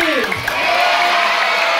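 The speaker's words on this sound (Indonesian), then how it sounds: "Tepuk tangan sambil teriak, yeay." Children at a large storytelling event for Quran school students in Gunungkidul shout and cheer loudly together, with crowd noise sustained through the whole moment.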